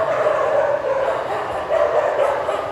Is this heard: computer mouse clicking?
no